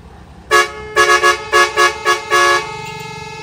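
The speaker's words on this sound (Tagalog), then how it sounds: "Yan yung busina stock." A loud dump truck stock horn honks in a series of short and medium blasts, six or seven bursts with brief gaps, then fades to low engine rumble.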